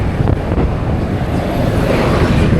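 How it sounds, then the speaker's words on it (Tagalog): Strong headwind roars over the microphone during a bike ride near Tagaytay, a loud, steady broadband rush with no voices. "Ang lakas ng headwind."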